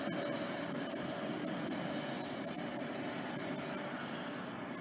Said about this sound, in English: Here comes the 12th, the 130 westbound low train.